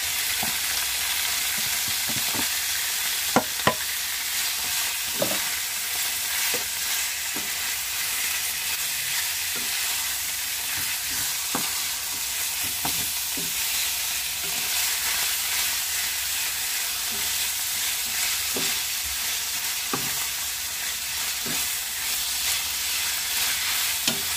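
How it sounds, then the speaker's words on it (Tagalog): Marinated pork frying with tomato paste in a pan, a continuous loud sizzle with repeated sharp stirring clicks and scrapes of a utensil over the whole stretch. "Tutustahin lang natin siya ng konti."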